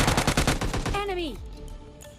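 Rapid automatic gunfire in PUBG Mobile Lite, a dense string of loud bursts that cuts off and gives way to a falling whistle-like tone and fading echoes.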